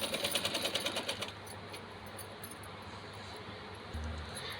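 A sewing machine stitching a dress runs in a quick, rhythmic burst of needle strokes for about a second, then settles into a quieter steady whir with faint clinks, close by.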